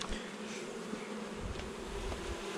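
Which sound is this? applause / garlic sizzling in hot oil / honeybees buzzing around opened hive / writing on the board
honeybees buzzing around opened hive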